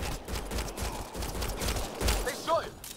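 A burst of gunshots in Mass Effect Andromeda, a string of close rapid cracks firing back to back amid game ambience, with a short whine near the end.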